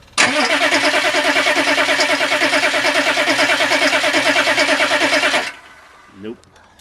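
A Weasel tracked vehicle's engine cranks loudly and steadily for about five seconds with a fast rhythmic chug but never catches, then stops abruptly; a brief faint sound follows in the quiet.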